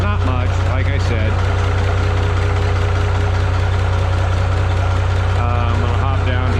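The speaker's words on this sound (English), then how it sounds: "it is definitely a louder muffler" Engine idling through a new, louder aftermarket muffler on an MM G950 tractor on a cold day, a steady low rumble with a loud, constant throb and some rattling tones over the top.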